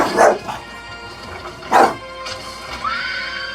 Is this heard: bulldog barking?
yes